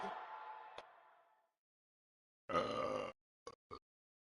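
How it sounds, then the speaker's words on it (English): A single deep burp rumbles out close and loud, then fades away, followed after a pause by a brief grunting noise and a couple of short clicks. "Good food makes you burp."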